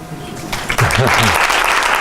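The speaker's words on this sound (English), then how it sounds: "I don't know if you deserve a round of applause." An audience at a school presentation breaks into a round of applause, the clapping starting abruptly and carrying on steadily and fairly loudly, with some voices mixed in.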